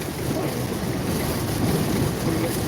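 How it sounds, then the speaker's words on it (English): Strong wind gusts up to 53 mph during a severe storm in north-central Illinois roar and buffet against the microphone in a continuous, heavy rush of noise, with no voices over it. "We had up to 53 mile an hour gusts just then."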